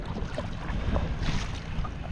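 A boat motors across choppy water in New Zealand, crossing the wake of a big passing boat, with steady engine rumble, wind buffeting the microphone and waves slapping the hull. No one speaks.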